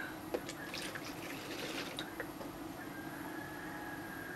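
Eleven ounces of milk pours steadily into a measuring jar for a batch of no-knead cinnamon rolls, a continuous close liquid stream with faint drips and no talking.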